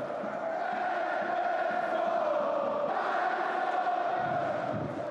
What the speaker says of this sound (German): unentwegtes Anfeuern.